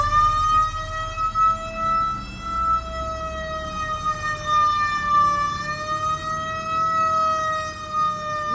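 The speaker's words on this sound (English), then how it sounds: "Siren is on here, as you can see right now." A fire truck siren sounds continuously at close range, a sustained wailing tone that rises and falls slightly, with a low engine rumble beneath.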